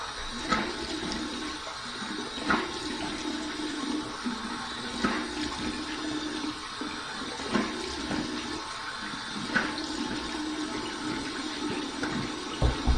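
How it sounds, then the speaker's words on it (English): Warm water runs steadily from a tap into a sink during a razor shave, a continuous splashing stream with occasional knocks and clatters, fairly close and quiet, with no talking. "here's my warm water rinse."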